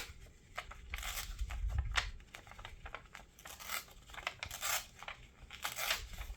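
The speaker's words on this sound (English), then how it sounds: "Just tear some." Paper is torn by hand for an index card collage, with a series of short, faint ripping and crinkling bursts spread unevenly across the stretch, close by and quiet, with no talking.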